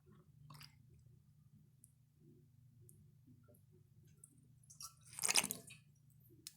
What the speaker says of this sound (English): now I'll show you guys how it flushes with this new setup.